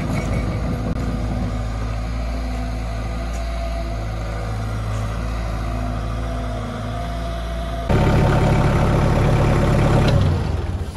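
A digger's diesel engine idles steadily and loud, close by at a pond dig site, its low rumble continuous throughout and growing a touch louder and rougher near the end.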